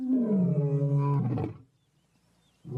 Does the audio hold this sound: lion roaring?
yes